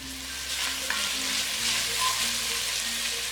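Onions and green chillies sautéing in a pan for masala dosa filling, a steady close sizzle and crackle of frying with no talk.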